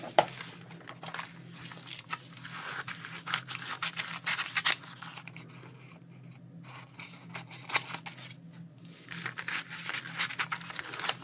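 Scissors snip and slice through a sheet of Gelli plate printed paper, with close, crisp repeated cuts in quick runs, a short pause midway, then more rapid snips, all without talk.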